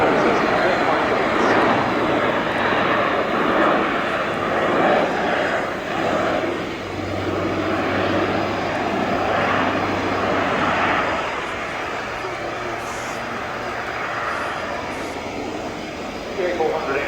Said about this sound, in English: The A400M is an incredibly capable aircraft.